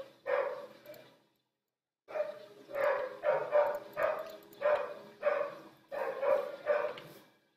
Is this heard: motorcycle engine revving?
no